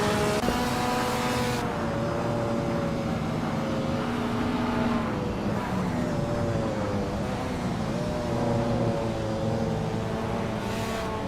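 Classic touring car engines in the Assetto Corsa sim, racing at the Österreichring, rev and drone continuously near and loud, the pitch rising and falling through gear changes as several cars run together.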